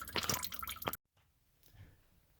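Water dripping and splashing while a clogged garbage disposal part is rinsed, a short cluster of close wet drips and squishy spatters, then an abrupt stop and faint trickling afterward.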